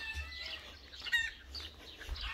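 Caged poultry cluck and chirp in a busy, continuous background chorus, with a few brighter calls standing out and no talking.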